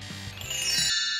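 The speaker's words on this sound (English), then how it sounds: "she didn't hear her alarm on her phone ringing" A bright electronic phone alarm chime rings as a story sound effect, a high clear tone rising out of a brief musical passage and ringing on alone at the end.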